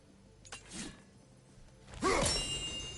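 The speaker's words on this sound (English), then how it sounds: "Simply throw your axe and strike the chimes, and I will attend to your needs." Axe striking metal chimes in God of War Ragnarok: a soft whoosh and light clank, then a bright ringing clang that sustains with shimmering overtones.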